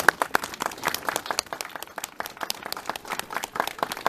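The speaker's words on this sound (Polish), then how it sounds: "Zdecydowanie wielkie brawa dla wszystkich Państwa" Crowd applause at a monument unveiling ceremony in Osielec, made of distinct, sharp individual claps from a modest number of people outdoors, irregular and rhythmic rather than a dense roar.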